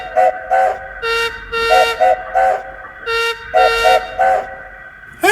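A train whistle sounds in a rhythmic series of short and longer toots, loud and close, with brief pauses between the blasts.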